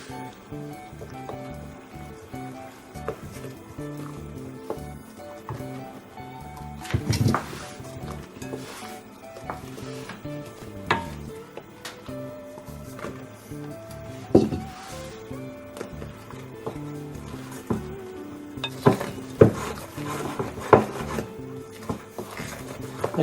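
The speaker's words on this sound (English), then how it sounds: "So just add part of it and mix." Flour, baking powder and salt are stirred together in a bowl, giving a continuous soft scraping and rubbing with occasional sharper knocks of the utensil against the bowl, close and moderately loud.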